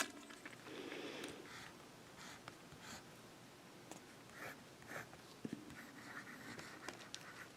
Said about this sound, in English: So let's write with the Anderson broad nib, and we can compare.